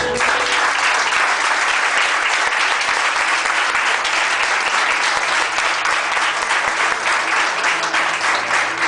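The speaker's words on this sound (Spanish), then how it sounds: "denle un aplauso al Señor" A church congregation claps together in a dense, sustained burst of applause that holds at full strength throughout.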